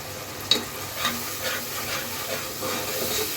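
Chili powder and spices stir-fry in a pan for mung dal with hilsa fish head, giving a steady low sizzle with a few soft stirring scrapes and a sharper clink near the start. No one speaks.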